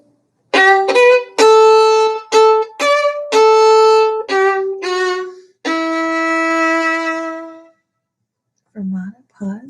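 A violin plays the Suzuki Book 1 Allegretto: a string of clear, detached bowed notes, then a long held note under a fermata, a silent pause and a brief restart, close and solo.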